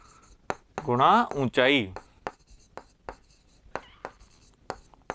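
A formula is written by hand during a Class 7 maths lesson on area, heard as a series of short, sharp taps and scratches near the microphone, interrupted by a teacher speaking.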